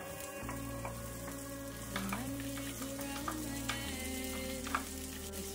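Onion frying in a stir-fry pan for chicken stir fry, a steady sizzle with scattered clinks and scrapes of stirring, close and moderately quiet, with a low hum running underneath and no talk.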